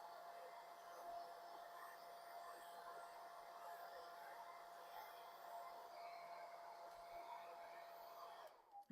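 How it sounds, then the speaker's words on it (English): A hair dryer blows a steady, even rush of air across a wet watercolour painting of a sunset sky over a snowy hill, holding constant for several seconds before cutting off at the end. "one more quick little blow dry along the ridge line"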